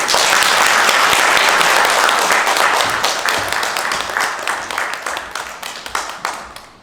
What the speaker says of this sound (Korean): 그러면은 큰 박수로 환영해 주시면 감사하겠습니다